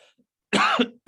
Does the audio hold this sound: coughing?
yes